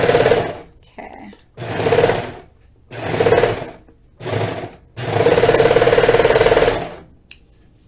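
A sewing machine stitches a sweater seam in five bursts of rapid mechanical whirring separated by short pauses, the last burst longest, close and fairly loud with no talking.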